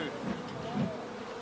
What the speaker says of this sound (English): When the bees swarm out, the colony is divided into two.